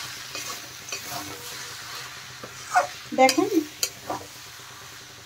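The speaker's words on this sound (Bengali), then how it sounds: "এখন আবার একটু নেড়ে দিচ্ছি।" Fried cabbage with garam masala being stirred in a pan, a soft sizzle underneath and a few sharp clanks of the spatula against the metal, with a brief voice speaking.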